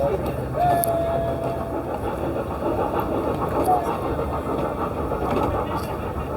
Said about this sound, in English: Here we've got the little train, which is cute.